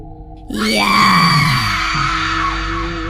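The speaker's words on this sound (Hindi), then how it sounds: "वो बहुत जोरों से चिल्लाई।" A woman screams loudly in a horror story scene, a long shrill rising and falling shriek, close and harsh, over a low droning background.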